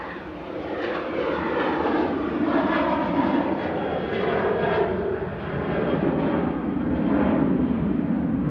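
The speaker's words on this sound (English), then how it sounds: "Departing, though, on 23 right is Jet2 to Bodrum." Jet2 airliner departing runway 23 right at Manchester Airport, its engines roaring loud and steady throughout with a broad rumbling whine, no talk.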